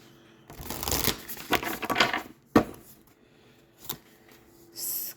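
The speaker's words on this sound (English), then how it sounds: "Shuffle these up some." Tarot cards are shuffled in several bursts of riffling and slapping, a close, crisp series of rustles separated by short pauses and sharp taps.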